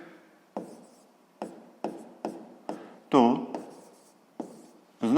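Chalk or pen writing out a math expression, a series of short scratchy strokes with pauses between them, close and clear, with a voice speaking in between.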